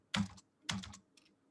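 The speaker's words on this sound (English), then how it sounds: "Why my keyboard is not working?" Two quick bursts of computer keyboard typing, close and crisp, followed by a fainter final tap in an otherwise quiet room.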